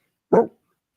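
A dog gives a single short, sharp bark, close and clear, surrounded by silence, played back from a clip.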